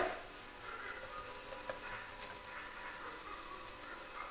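Eggs poured into bitter gourd frying in a pan give a steady, close sizzle with a faint crackle throughout and no talking.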